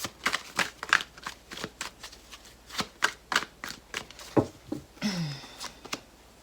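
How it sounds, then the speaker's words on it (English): Tarot cards are shuffled by hand in a rapid series of crisp riffles and flicks, with quieter slapping patter as some cards drop out, all close and alone with no talking. "we have a lot of cards falling out here"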